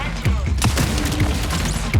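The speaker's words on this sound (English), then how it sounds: "The arm cannon for Vandal unfolds" Vandal's arm cannon unfolding in the game Marathon: a sequence of sharp metallic clanks and mechanical thuds, several distinct hits spread across two seconds, loud and close over a rumbling bed.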